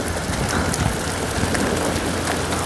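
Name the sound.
rain and hail falling in Chopta valley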